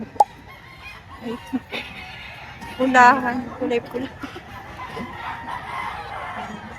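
Chickens and roosters at a busy poultry market in Lipa, Batangas, crow and cluck in scattered calls, with one prominent crow in the middle, beneath nearly continuous talking.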